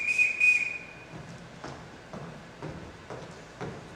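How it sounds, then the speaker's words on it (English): A sharp, high whistle is blown as a signal in The Sound of Music, two short blasts followed by a longer trill, then several quiet footsteps or shuffles. "Everyone in this household answers to a whistle."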